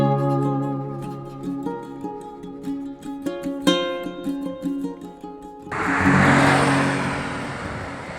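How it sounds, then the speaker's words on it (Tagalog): Motorcycle engine idling close by with a steady, humming rumble that shifts in pitch, then breaking into a loud, rough rev that roars on to the end. "Ito yung motor namin."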